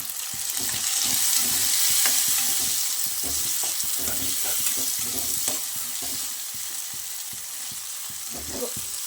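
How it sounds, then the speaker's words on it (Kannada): A spoonful of ginger garlic paste sizzles in a pan for spicy chicken dry, with capsicum already added; steady close frying hiss with soft stirring scrapes throughout, no voices. "ಒಂದು ಸ್ಪೂನು ಶುಂಠಿ ಬೆಳ್ಳುಳ್ಳಿ ಪೇಸ್ಟು ಫ್ರೈ ಆಗಿದೆ"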